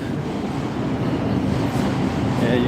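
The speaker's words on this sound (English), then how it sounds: "you can hear the train coming" A New York subway train approaches a station near Penn Station as a dense, steady rumble and rail roar, with a faint high squeal near the end.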